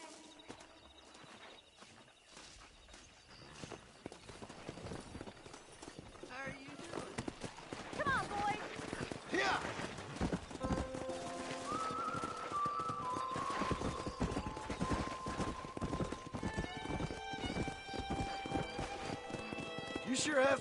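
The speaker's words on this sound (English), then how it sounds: "That ranch hand said there's a pack of wild horses nearby." A herd of wild horses gallops in Red Dead Redemption, a rapid flurry of hoofbeats growing busier and louder, with occasional whinnies, music and voices talking over it.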